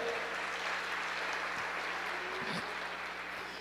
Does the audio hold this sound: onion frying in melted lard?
no